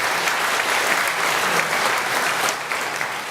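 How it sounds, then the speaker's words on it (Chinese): A church congregation applauds during a Taiwanese-language worship service at Shuanglian Church. Dense, even clapping fills the room without a break for about three seconds and eases slightly near the end. "咱个鼓掌来鼓励一下好"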